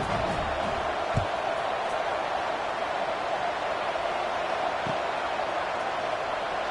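A stadium crowd roars before the kickoff in an NCAA football video game, a steady, even wash of distant cheering noise with no distinct voices.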